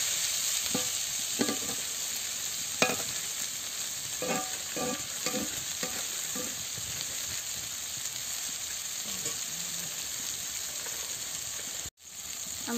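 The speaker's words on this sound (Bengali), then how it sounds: "এবার সেদ্ধ হওয়ার জন্য আমরা ভেজে দেবো।" Bitter gourd and egg curry ingredients frying in a pan, a steady loud sizzle running throughout with repeated scraping stir strokes in the first half and a brief dropout near the end.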